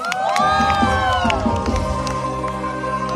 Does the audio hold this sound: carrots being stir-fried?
no